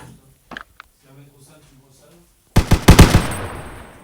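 Rapid automatic gunfire from the Minecraft game breaks out in a loud, close burst of sharp cracks after a quieter stretch of speech and game sounds, then tails off.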